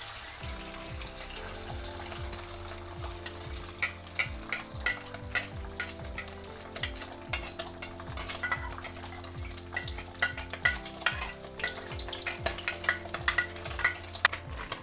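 Eggs fry in plenty of oil in a pan for fried rice, a steady crackling sizzle under repeated scraping stirs and utensil taps that grow busier toward the end, with no voices.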